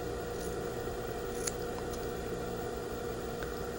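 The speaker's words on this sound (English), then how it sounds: "The layer trimming involves trimming the interfacing very, very close to the stitching line" Scissors trim collar interfacing close to the stitching line, giving a few faint, sparse snips over a steady quiet hiss.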